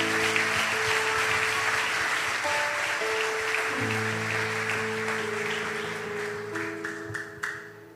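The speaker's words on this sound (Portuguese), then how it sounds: "Nós oramos e te aplaudimos em nome de Jesus." A church congregation claps after a prayer as sustained keyboard chords play beneath, the applause steady and broad before tapering off near the end.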